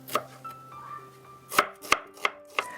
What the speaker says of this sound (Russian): Среднюю луковицу режу перьями.